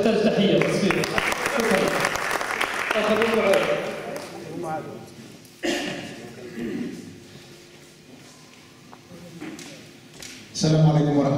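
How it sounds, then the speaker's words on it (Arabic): An audience of Moroccan citizens in Denmark, meeting a government minister, bursts into applause that rises and fades over the first few seconds, with voices talking over and after it and a short burst of clapping near the end. "هذا يحتاج تحية تصفيق."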